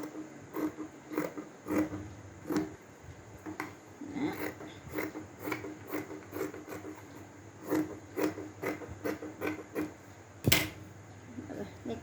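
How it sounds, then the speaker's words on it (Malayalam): Scissors cut a round kurti neckline out of fabric, giving a rhythmic series of soft snipping crunches close by, with one louder clack near the end and no talking. "നെക്ക് കട്ട് ചെയ്തെടുത്തിട്ടുണ്ട്."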